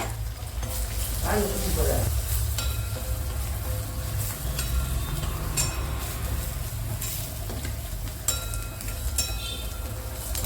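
Chilies and crushed garlic frying in hot oil for a keerai and kovakkai poriyal, a moderate steady sizzle with occasional clinks of utensils against the pan and a voice speaking now and then.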